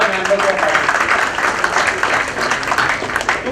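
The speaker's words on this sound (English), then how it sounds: "A big round of applause for all the members of our team" Audience applause for team members at a foundation day jubilee celebration, a steady, dense round of clapping from a large crowd that holds for several seconds with voices mixed in.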